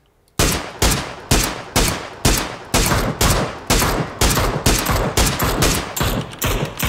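Rapid gunfire in PUBG Battlegrounds, a loud close burst of evenly spaced shots, about a dozen in quick rhythm, each with a short decaying tail, with no talk over it.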